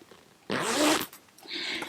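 A zipper on a bag's zippered pocket is pulled open in one quick, close rasping run, followed by a softer, shorter zip sound.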